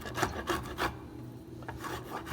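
A hand tool shaves wood while a guitar neck is shaped, giving close, quiet rasping strokes, about four in quick rhythm followed by a pause and two more, without talk.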